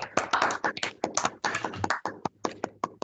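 Webinar participants clapping over reopened microphones, a sparse, uneven string of close individual hand claps, some sharp and isolated, others overlapping in short bursts.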